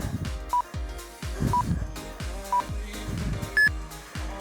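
A workout interval timer sounds during an at-home, no-equipment full-body session. It gives four short, evenly spaced electronic beeps about a second apart, and the last one is higher and longer, over steady background music.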